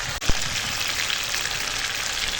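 Chicken and spices fry in a little oil in a pot over a wood fire, giving a steady, close hiss and sizzle with one brief knock near the start.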